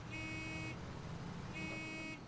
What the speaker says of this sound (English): we're going to drive through the village again, and we're going to honk for the ghosts